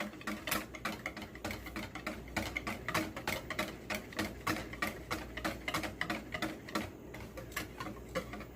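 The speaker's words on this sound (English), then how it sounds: "so just whisk it a few" Chocolate pudding mixture whisked in a bowl: a quick, regular ticking rhythm of the whisk striking the bowl, steady and close for the whole stretch with no voices.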